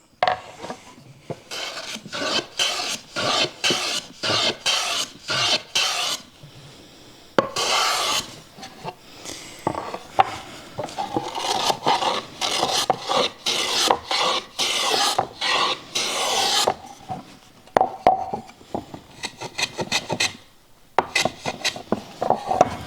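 Hand-trimming wood for a dovetail bench hook gives close, rhythmic rasping strokes in short bursts with brief pauses, repeating steadily throughout.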